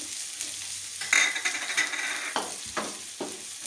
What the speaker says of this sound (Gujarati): જીરું થઈ જાય હવે આપણે આ ડુંગળી હતી એ નાખી દઈશું।